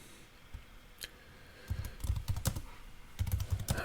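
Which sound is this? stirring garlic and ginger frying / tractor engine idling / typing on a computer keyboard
typing on a computer keyboard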